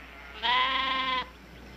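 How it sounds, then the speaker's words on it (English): A sheep bleats once, a clear sustained nasal call of under a second, close and loud over a faint background hum. "They are not stock. They're sheep."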